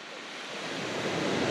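Surf breaking on a beach at West Bexington, a steady broadband wash of water and wind that swells slightly louder over a second and a half.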